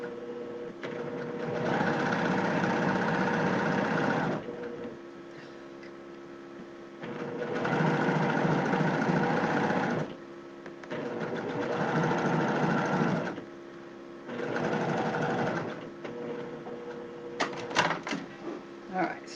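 A sewing machine double top stitching a shirt runs in several bursts of rapid mechanical whirring, each a few seconds long with brief pauses between, and a person speaks quietly in the gaps.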